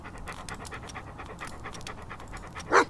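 A small long-haired dog in the video game Hobo: Tough Life pants in fast, even rhythmic breaths, then gives one short loud bark near the end.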